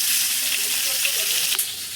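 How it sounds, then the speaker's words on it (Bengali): Hilsa fish frying in hot oil, a steady bright sizzle with crackling spits that holds close and loud throughout, a small pop near the end. "ইলিশ মাছ ভাজি করবো"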